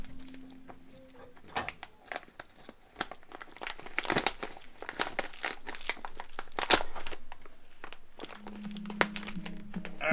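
A bag of brewing grain torn open by hand without scissors, giving long stretches of loud crinkling and crackling plastic with rips and rustles throughout.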